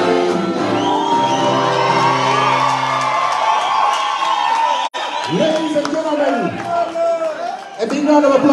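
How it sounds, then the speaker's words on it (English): Audience at a comedy show in a Lusaka theatre cheers and whoops loudly, with shouts and clapping blending into a lively crowd roar that dips briefly midway before surging again. "Big round of applause."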